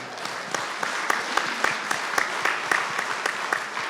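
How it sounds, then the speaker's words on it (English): Audience applause at a mayors' forum, a steady wash of many hands clapping with sharp individual claps standing out, sustained for several seconds without voices. "give him a round of applause"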